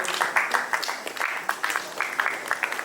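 An audience applauds at the trailer launch of Ground Zero with Emraan Hashmi, Sai Tamhankar and Zoya Hussain: moderate, uneven clapping from a crowd, fairly close and steady for a few seconds.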